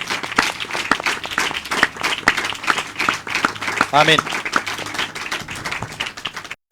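A church congregation claps steadily for a worship singer, the crowd applause filling the whole stretch while a voice speaks over it briefly near the middle.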